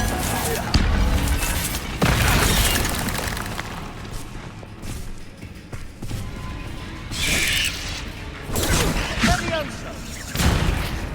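Repeated Bombarda blasting-spell explosions go off in Hogwarts Legacy, several loud booming bursts spread across the stretch amid rumbling game effects and background music.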